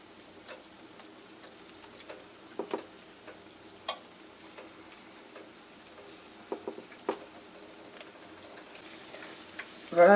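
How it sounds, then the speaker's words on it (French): Banana fritter batter frying in hot oil at home, a steady soft sizzle with scattered pops and crackles close by and no talking. "Je vais frire un beignet."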